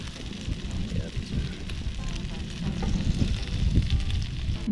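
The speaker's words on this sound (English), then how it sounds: "Got some crispy ones in here. The cheese melts out and crisps up nicely." Bacon and pepperoni pizza pinwheels fry on a Blackstone griddle with a close, continuous crackling sizzle that swells and fades slightly, no talking.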